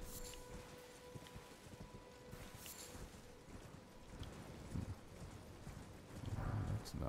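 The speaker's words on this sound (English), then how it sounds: "let's horse it, see if we can find it a little faster here" Horse hooves clip-clopping at a run in the Elden Ring video game, a steady rhythmic patter over ambient game wind and music, growing louder toward the end.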